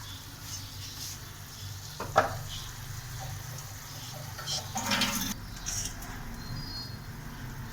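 Whole garam masala spices and three red chilies sizzling in hot oil for a tadka, a soft steady crackle with a few louder spits and stirring scrapes near the middle, no voices.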